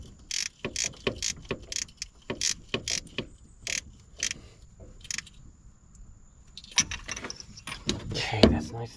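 Bolt being threaded back in by hand on an old International Loadstar tow truck: a string of short metallic ratcheting clicks in bursts, close up, with brief pauses and a rougher clatter near the end.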